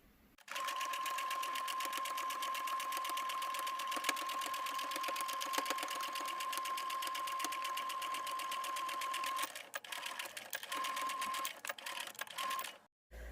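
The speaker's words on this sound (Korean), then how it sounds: "가생이 1cm 눌러받기 박음질하고 마무리하도록 하겠습니다" A sewing machine runs a steady stitch along the 1 cm edge of a fabric hot pack pouch, a continuous close whirring that stops briefly near the end and resumes in short bursts.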